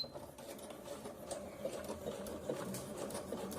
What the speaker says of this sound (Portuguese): E agora a gente vai começar a nossa costura.